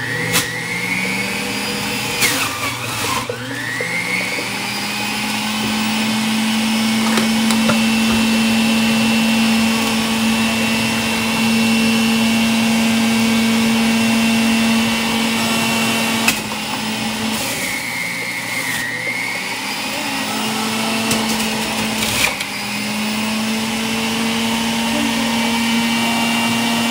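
An electric juicer grinds green apples at home, a loud, steady motor whine running throughout with a few brief pitch dips and surges as fruit is pushed through.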